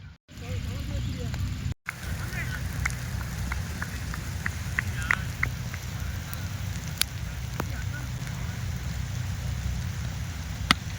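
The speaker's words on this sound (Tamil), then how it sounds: "இப்போ மழை வந்தது இப்போ மழை அப்படியே போயிடுச்சு" Rain falling over an outdoor cricket match, a steady broadband hiss with scattered sharp drop ticks and crackles running throughout, with a brief dropout near the start.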